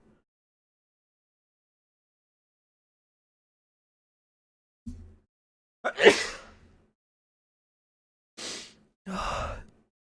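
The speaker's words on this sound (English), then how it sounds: "oh, I'm gonna sneeze, man" A single sneeze bursts out after a few short breaths and a sigh, close and fairly loud against silence, followed by two more quick breathy sounds.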